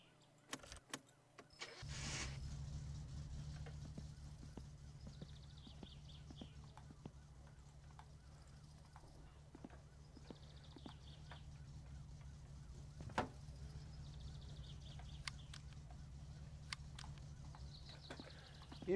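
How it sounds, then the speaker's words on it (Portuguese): A car engine idles steadily in the video game My Summer Car, a low constant rumble after a brief start, with faint clicks and clatter over it. "eu vou deixar o carro aqui ligado"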